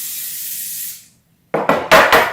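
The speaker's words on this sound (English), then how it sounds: "I'm going to spray it with a non-stick cooking spray so our cornbread will easily come out" Non-stick cooking spray hisses steadily onto an 8x8 baking pan for about a second, fading out; after a short silence come several louder, close knocks and rubs of the pan.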